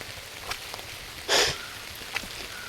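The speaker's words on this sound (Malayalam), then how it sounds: "മഴ പെയ്യുന്നുണ്ട് കേട്ടോ." Rain falls with a steady, soft hiss over a garden in Idukki where mangoes and passion fruit lie on the ground. A brief louder splash rises partway through, and nobody speaks.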